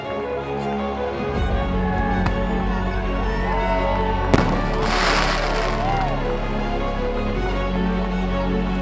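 Fireworks burst at the launch of an ocean paddle crossing from Bimini: one sharp bang, then a loud crackling shower lasting a couple of seconds over constant outdoor noise, with faint voices.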